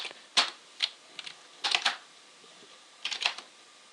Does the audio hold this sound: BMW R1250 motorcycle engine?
no